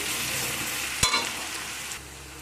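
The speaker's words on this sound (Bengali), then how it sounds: "রসুনটাকে আমি দিয়ে দিলাম দিয়ে ভেজে নেব তেলের মধ্যে ভালো করে" Ground garlic paste dropped into hot oil, a continuous bright sizzle with a sudden burst as it hits the pan, then steady frying that eases slightly toward the end.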